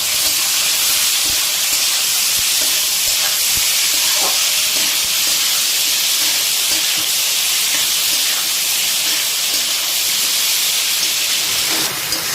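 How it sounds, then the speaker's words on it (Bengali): Onions dropped into hot oil with tempered whole spices for a thin Bengali chicken curry hiss and sizzle loudly and steadily, a dense crackling wash that holds for the whole stretch without any talking. "এবার দিয়ে দিচ্ছি পেঁয়াজ।"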